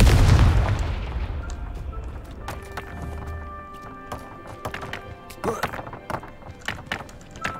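Confringo blasting spell explosions in the video game Hogwarts Legacy: a heavy boom opens, followed by scattered thuds and crackling impacts that fade into a ringing, echoing tail with a few later sharp hits.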